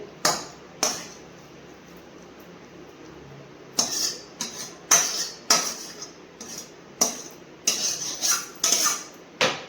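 A metal pot of cooked cabbage is lifted off a gas stove, giving sharp clanks and scraping clinks of cookware that come in separate bursts, sparse at first and then closer together.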